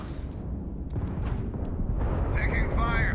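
Space battle gunfire and explosions in Starfield, a dense rumbling barrage of booms and blasts with sharper bursts and whines building toward the end, loud and continuous, with voices talking over it.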